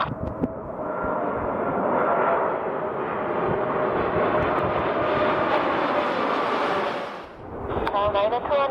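An airliner lands on runway 33R at Incheon airport, a broad roaring rush of jet engine and wind noise that swells and holds steady, then drops away sharply near the end.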